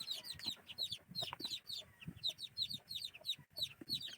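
Oriental chicken chicks peep continuously up close, a dense overlapping chorus of high, rapid chirps with soft rustling underneath.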